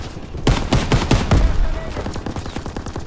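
Rapid bursts of video-game gunfire crackle in a war shooter set in trenches, sharp irregular shots and short fusillades clustered together, loud and near with no speech.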